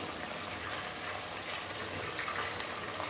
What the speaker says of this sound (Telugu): ఆయిల్ హీట్ ఎక్కిన తర్వాత ముందుగా కడిగి పెట్టుకున్న గోంగూర వేసుకోవాలి.